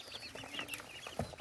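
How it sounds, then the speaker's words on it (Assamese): Local ducklings chirping in a brooder on a cold day, faint soft peeping calls scattered across a short stretch with no talk. "এইবোৰ পিয়ৰ পাতিহাঁহৰ পোৱালি হয়।"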